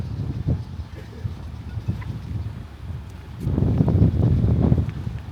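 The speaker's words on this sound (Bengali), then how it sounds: "বিচের কাছাকাছি চলে আসছি গায়ে বাতাসও লাগছে" Wind gusting near Digha beach in Kolkata, a steady low roar that buffets the microphone and swells louder toward the end.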